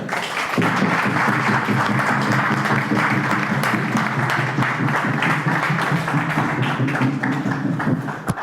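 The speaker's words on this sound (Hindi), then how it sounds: "आप लोगों की जोरदार तालियों के बीच हम बुलाना चाहते हैं" Loud, sustained applause from a seminar audience welcoming a presenter at a wellness product event, dense clapping continuing steadily from near start to end with a low hum beneath.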